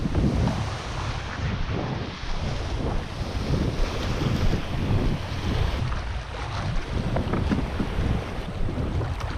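Strong wind buffets a small boat out at sea, a steady, loud rushing roar with microphone wind noise and the wash of waves and seaweed-laden water, continuous throughout with no talking.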